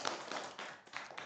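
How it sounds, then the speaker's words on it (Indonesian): Indonesian audience clapping together on cue at a lively live event, a quiet, steady patter of hand claps with soft pulses over about a second. "tepuk tangan dulu"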